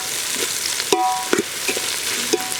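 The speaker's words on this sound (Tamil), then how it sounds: "கருவேப்பிலை போட்டுக்கலாம்." Curry leaves drop into hot oil in a village kitchen, with a steady close sizzle and crackle and a few brief sharp pops and stirring clinks.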